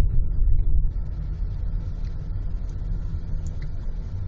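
A car engine rumbles low and steady while the car parks on the right side outside a madrasah. The rumble is a bit louder for the first second, then settles into an even, close hum.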